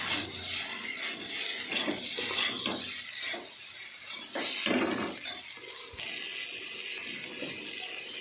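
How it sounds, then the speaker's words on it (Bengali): Water poured from a tap or jug into a cooking pan holding onion, ginger, garlic, tomato, chilli, turmeric and salt, a steady close splashing and filling sound with a few faint clinks. "একটু জল দিয়ে দেবো।"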